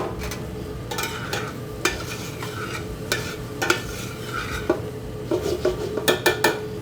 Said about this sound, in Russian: Обжариваем до румяного цвета.